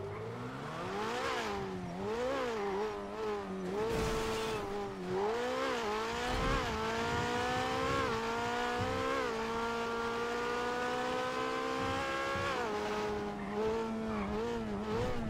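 Engine noise from a car in a GTA roleplay video game roars steadily and loudly, rising and falling in pitch through gear shifts as it accelerates and drives off, with tire squeal and no talking.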